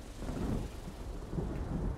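Low thunder rolls in a continuous rumble with a faint patter like early rain, outdoors before a downpour near the sea, heard at a distance and fairly quiet.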